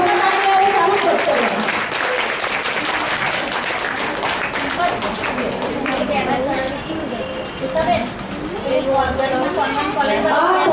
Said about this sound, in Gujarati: હજુ વધારે જોરદાર તાળી આવે